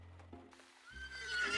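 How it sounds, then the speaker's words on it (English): A horse whinnies in the video game Repella Fella, one rising, fairly loud neigh with a faint clip-clop of hooves beneath it, heard alone without any talk. "Was that a fucking horse?"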